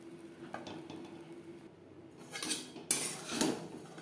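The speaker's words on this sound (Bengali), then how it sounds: "এইভাবে ঝরঝরে হওয়া পর্যন্ত নাড়াচাড়া করে নেব।" Semolina being stirred in a pan with a metal utensil, giving soft scraping and clinking of the utensil against the pan, quiet at first, then a few sharper, louder scrapes and knocks near the end.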